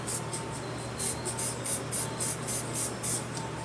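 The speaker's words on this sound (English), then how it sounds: "we're going to give it a nice overspray of yellow" Yellow spray paint misted over a canvas in a series of short, evenly spaced hissing bursts, close and fairly light, over a low steady background hum.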